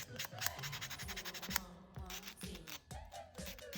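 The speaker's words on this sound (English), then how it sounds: "And then I will go ahead and start buffing this one." Nail buffer rubbed back and forth over a dip powder manicure with holographic foil flakes, a close, steady scratchy rubbing in quick repeated strokes throughout.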